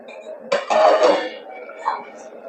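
A lid comes off a cooking pot of Bengali bean and potato curry with a brief, close metallic clatter and scrape, while a voice talks around it.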